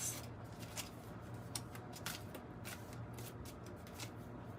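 Close, soft riffling and flicking of tarot cards being shuffled repeats in quick bursts over a steady low hum.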